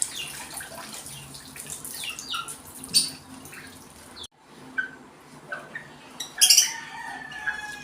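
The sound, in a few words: gamefowl being bathed with water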